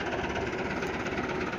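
A Fiat 640 tractor engine running steadily nearby, a loud continuous diesel rumble with an even throbbing rhythm, with no voices present.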